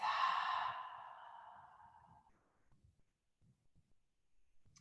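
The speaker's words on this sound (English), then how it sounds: "Take a deep breath in through your nose and then just exhale through your mouth" During a yoga stress-release session, a person takes a deep breath and lets out a long, audible exhale through the mouth that fades away into near silence with faint soft rustles.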